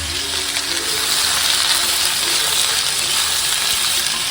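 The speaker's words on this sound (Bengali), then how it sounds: "এখন থেকে সবজিটা ভাজি করে নেব" Vegetables fry in a pan with a loud, dense sizzle and a wet crackle that runs unbroken and close throughout.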